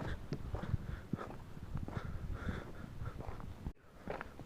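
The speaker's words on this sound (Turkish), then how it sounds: "İleriden köpek sesleri de geliyor." Faint dogs barking far off at night from a hilltop at the Selge ancient city ruins in Turkey, scattered yelps over rustling and outdoor background noise.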